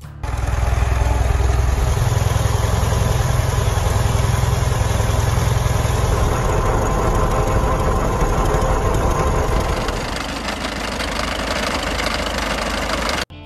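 A Farmall F12 tractor from 1932, an antique machine, runs with a steady, loud low rumble for about ten seconds, then its throbbing note thins out and continues a little rougher.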